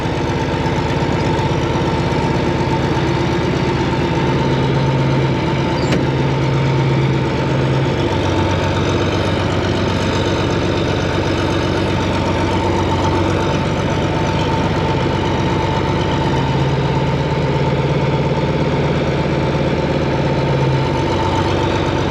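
A tractor engine idles steadily and loudly nearby, a constant low chugging drone with a faint knock, running on its own without talk.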